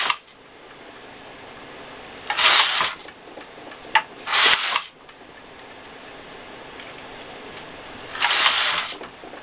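The carriage of a Singer sock knitting machine is worked past the last stitches of a heel. Three or four short, brisk bursts of rubbing and clicking mechanism stand out against quiet background, and no one talks.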